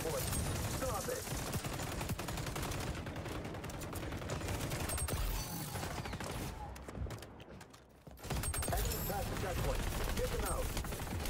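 Dense, continuous gunfire from a multiplayer shooter game, bursts and sustained automatic fire blending into a loud wall of shots, briefly thinning out before resuming at full intensity.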